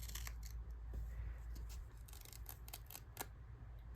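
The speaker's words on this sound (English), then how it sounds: "Let's see how easy it is to tear." Perforated stationery paper torn apart by hand along its perforation line, giving a run of close, crisp, scratchy rips and crackles over a low room hum, with no voice.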